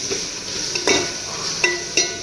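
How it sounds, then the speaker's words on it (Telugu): Green chillies and tomatoes frying with onions in a pan, a steady close sizzle broken by a few sharp scrapes and clinks of a stirring spoon. "ఉల్లిపాయలు వేగినాక ఈ పచ్చిమిరకాయలు, టమాటాలు కూడా వేసాను. ఇవి కూడా బాగా వేగుతుంది."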